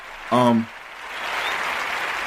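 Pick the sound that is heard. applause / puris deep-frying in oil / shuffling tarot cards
applause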